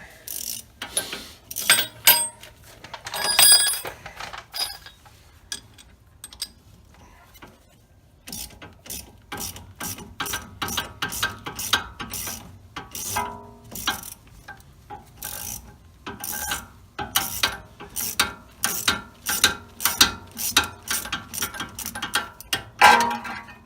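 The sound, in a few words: ratchet turning bolt during Audi S4 spring install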